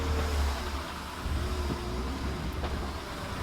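Engine of a BMW E36 revving with the clutch slipping, a steady loud mid-pitched drone with slight rises and dips throughout, heard alone without voices.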